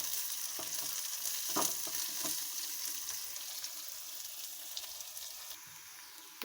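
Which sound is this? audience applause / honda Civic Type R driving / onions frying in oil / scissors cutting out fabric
onions frying in oil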